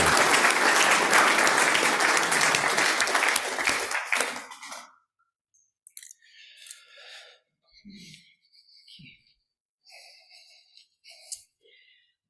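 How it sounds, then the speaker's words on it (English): A church congregation at a Sunday worship service breaks into loud, dense applause that fades out after about four seconds, followed by quiet scattered rustles, shuffles and faint movement in the room. "Let's give a round of applause at this joyful occasion."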